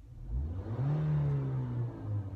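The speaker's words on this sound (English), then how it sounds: "you're revving the car up" A car engine revs steadily during a hill start, a sustained mid-pitched drone that rises and holds close by, with no talk over it.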